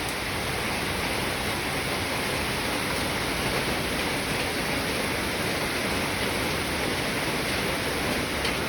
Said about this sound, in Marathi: चालू पावसामध्ये गारा पडत आहेत